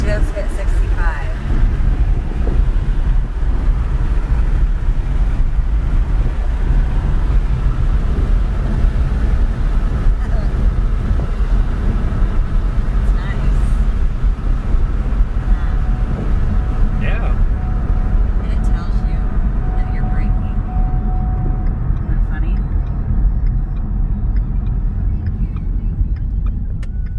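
Steady low engine and road rumble from a Ford Mustang cruising at highway speed around 60–65 mph, a continuous drone heard from inside the car with occasional voices over it.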